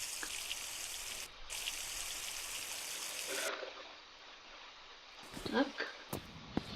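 Water filling a tank in The Long Drive video game, a steady rushing stream that cuts off partway through, followed by someone talking.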